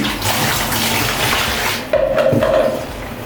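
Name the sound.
water poured from a scoop for rinsing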